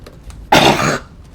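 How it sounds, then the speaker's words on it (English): A single harsh cough bursts out close and loud for about half a second, with no talking around it. "was starting to cough"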